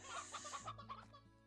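A chicken in the video game Slime Rancher gives a short run of soft clucks, rhythmic and quiet, alone without talk.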